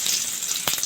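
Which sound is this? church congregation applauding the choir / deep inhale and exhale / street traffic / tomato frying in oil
tomato frying in oil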